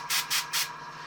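An airbrush sprays metallic paint onto a miniature sword in three short, close hissing bursts, each a tight little spray, with a faint steady hiss continuing between them.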